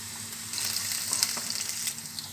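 Garlic, onion and ginger fry in cooking oil for Ilocano pakbet, a bright steady sizzle with a few stirring scrapes, close and moderately loud, no talking.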